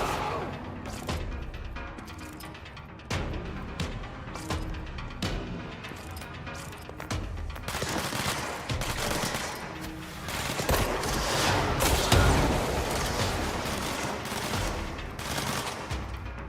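Missiles explode in the video game Control as a series of sharp blasts and crackling impacts, sparse at first and then building into a dense, louder barrage.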